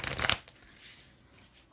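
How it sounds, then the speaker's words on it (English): A deck of playing cards is riffle-shuffled in a quick, crisp burst close up, followed by quiet room tone and a soft tap at the end. "let me shuffle a little bit for you"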